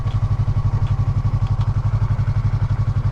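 A 2019 Yamaha R3 sport motorcycle on the move, its engine a steady, loud, closely pulsing drone with even firing beats and wind noise, no talking.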